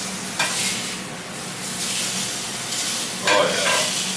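Bacon and mushrooms frying in a pan give a steady broadband sizzle, with a couple of brief louder bursts of crackle or stirring partway through; no one speaks.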